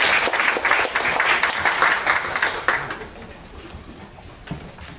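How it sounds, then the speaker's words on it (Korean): An audience at a Korean academic lecture applauds to welcome a speaker, with loud, dense clapping for nearly three seconds before it fades out into quiet room noise. "박수로서 환영해 주시면 감사하겠습니다."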